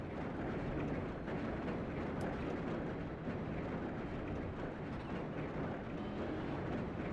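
A damaged NASCAR race car engine in an iRacing video game at Pocono drones continuously at steady loudness, rough, grinding, harsh and rattly, with no voices.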